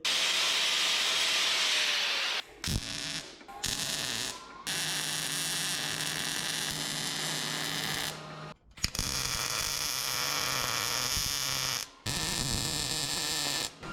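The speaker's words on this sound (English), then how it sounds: "Let's weld it." Steady loud crackling hiss of welding on homemade dump bed frame parts for a mini dually work truck, running in long continuous stretches broken by brief pauses, with no talking.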